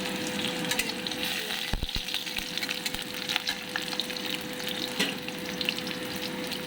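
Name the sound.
ridge gourd peel frying in oil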